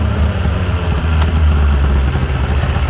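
A Yamaha V-Max 700 snowmobile engine idles close by with a steady, loud, low throbbing rumble that holds throughout.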